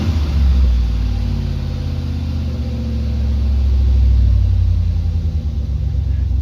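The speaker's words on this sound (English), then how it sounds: "the idle down and the idle progression and sequence is sounding" A car engine idles steadily after a cleaning treatment, with traction control reporting reduced engine power beforehand; a continuous low rumble with slight swells in level runs throughout, close and fairly loud, with no talking.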